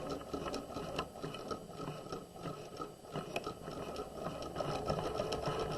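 Close, steady whirring of a sewing machine stitching the crotch seam of pajama pants from the waist down, with a regular needle ticking and faint clicks over the motor.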